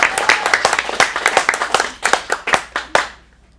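An audience at an adult acting showcase in a Phoenix studio gives a round of applause, brisk uneven hand claps close by that thin out and stop after about three seconds.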